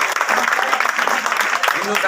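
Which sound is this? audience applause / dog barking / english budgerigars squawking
audience applause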